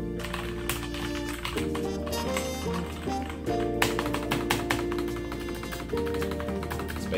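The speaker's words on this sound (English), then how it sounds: "let's listen to a few typing sounds." Rapid clicky keystrokes on a Royal Kludge G87 mechanical gaming keyboard, steady typing with sharp taps close by, running continuously over a faint background hum.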